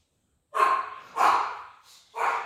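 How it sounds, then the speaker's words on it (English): Dogs bark in the background indoors, three short, loud, breathy barks spaced about half a second apart, with a faint snort between them and no talking. "those are my crazy dogs that are barking in the background"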